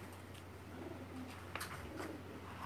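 Pigeon cooing softly at a rooftop pigeon loft, low repeated coos under a steady hum with a few faint chirps, no talk.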